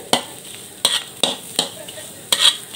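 Cicadas dry-roasting in a pan with no oil, scraped and stirred in several distinct strokes, each a short bright rasp with light clinks, close and fairly quiet with no talking.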